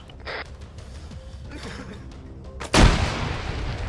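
Frag grenade explosion in a video game, one loud, sudden blast that rolls out into a rumbling tail, following a short clink and quieter mechanical shuffling.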